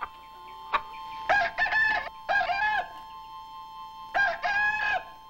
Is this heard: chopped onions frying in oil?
no